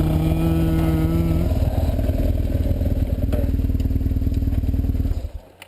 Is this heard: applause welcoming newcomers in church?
no